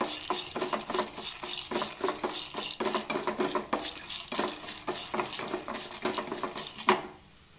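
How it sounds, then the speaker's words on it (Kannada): Chana dal and cumin seeds roast in a pan over a low flame while a spoon stirs them, making rapid, rhythmic scraping and clinking against the metal with a faint sizzle beneath. "ಕಡಲೆಬೇಳೆ ಫ್ರೈ ಆಗೋದು ಲೇಟು, ಸಣ್ಣ ಉರಿಲಿ ಹುರಿಬೇಕು"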